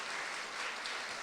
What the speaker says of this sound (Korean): 우리 다시 한번 박수로.